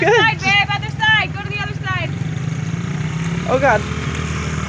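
A small dirt bike engine idles and putters steadily as a child takes a first ride, a constant low drone beneath excited adult voices cheering nearby.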